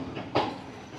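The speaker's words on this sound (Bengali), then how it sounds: "চলে এসছে আমাদের ট্রেন কোকিরাওয়া রেলওয়ে স্টেশনে" A train rolls into Kokirawa railway station in Anuradhapura District, Sri Lanka, a steady low rumble with a brief louder rush of wheel and carriage noise at moderate distance, no talking heard.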